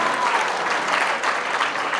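Guests at a charity fundraising gala applaud warmly, a dense, even burst of clapping that carries on without a break and with no voices over it.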